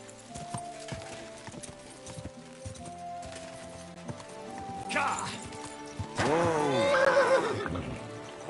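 Horse hooves clip-clop steadily, then a horse lets out a loud, wavering whinny near the end, with game-like background sounds underneath, in the video game Kingdom Come: Deliverance II.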